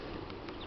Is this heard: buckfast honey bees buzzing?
yes